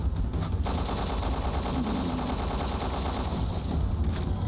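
Dense, loud gunfire fills a Resident Evil Revelations 2 fight, a continuous barrage of game weapon blasts with a few sharper shotgun-like bursts standing out and no voice over it.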